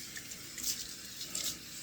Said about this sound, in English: let's get some cold water on my face